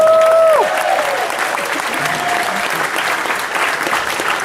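Applause and cheering from a convention panel audience at New York Comic Con, a steady dense roar of clapping that fills the whole stretch, loud and close, after a brief tonal sound at the start.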